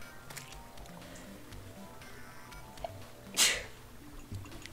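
A single forceful human sneeze bursts out near the end, brief and fairly close, against a quiet room background.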